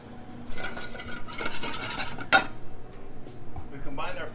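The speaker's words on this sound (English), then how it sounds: "We've combined our flour and our butter, and we're going to cook this" Flour is stirred into an ounce of clarified butter in a pan to make a roux for béchamel, with bursts of scraping, stirring strokes and one sharp metallic clink.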